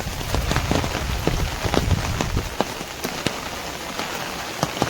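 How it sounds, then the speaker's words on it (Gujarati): Rain falls steadily at Songadh Fort, a dense close patter of drops striking nearby surfaces with sharp individual drips standing out, heavier at first and easing slightly later. "વરસાદ ચાલુ છે દોસ્તો"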